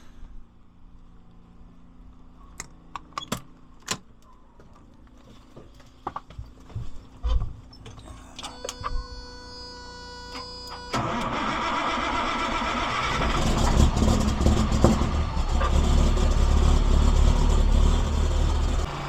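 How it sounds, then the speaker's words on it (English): Scattered clicks and knocks, then an old front end loader's engine cranks and catches. It settles into a steady running rumble that grows louder and rougher. "get Old Red fired up and warming up here"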